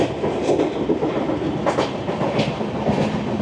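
The Agartala to Kolkata Garib Rath Express rumbles along its tracks through Tripura near Jogendranagar, heard from inside the carriage as a loud, steady roar with rhythmic clickety-clack wheel beats recurring every second or so.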